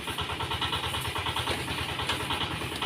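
A Kawasaki KLX 150 motorcycle engine running at a steady idle just after a kick-start, a close, even pulsing putter with a fast regular rhythm and no talking; the bike had an ignition fault.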